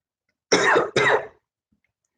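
Two sharp coughs in quick succession, close and loud, followed by silence and a faint click.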